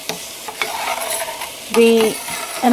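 A spoon stirs and scrapes through heavy cream boiling in a pan, with short bursts of scraping and a soft sizzle underneath.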